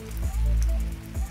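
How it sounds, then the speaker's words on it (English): Wind-driven rain lashes sideways across a steep downhill mountain-bike course, a loud, continuous roar of gusts and rain filling the short stretch with no voices. "The rain is exactly sideways."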